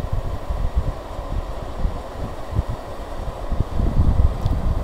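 A Rowenta Eclipse 2-in-1 fan runs at its maximum setting, making a steady, soft rush of moving air with faint low rumbling and no speech.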